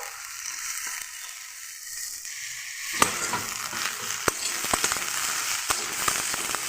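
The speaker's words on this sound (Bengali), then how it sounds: "এবার আলুটাকে ভালো মতন ভেজে নেবো এর সঙ্গে।" Cut potatoes frying in a pan with lentils and green jackfruit, a steady hiss and sizzle that jumps louder as they hit the hot oil, with sharp crackles and pops as they are stirred, close and without talk.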